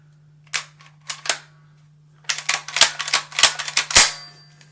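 A Beretta A300 Outlander shotgun being put back together, sharp metallic clicks and clacks of parts seating, a few spaced snaps and then a quick cluster of close, crisp clicks.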